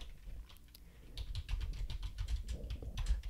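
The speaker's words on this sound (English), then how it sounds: "We can type any question." Rapid keystrokes on a computer keyboard as a question is typed, a close, quiet run of uneven clicks with no talking.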